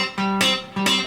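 Country guitar train-beat lick played up to speed, choppy and staccato, with two bright strummed bursts over sustained single-note lines, each chunk ringing briefly before the next, heard alone and close.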